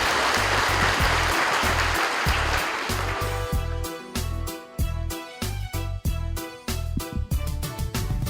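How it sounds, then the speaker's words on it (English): An audience at a secondary-school debate grand final in Kokopo applauds steadily, first as a dense wash of clapping and then thinning into rhythmic claps over a pulsing low music beat. "Round of applause for the two schools."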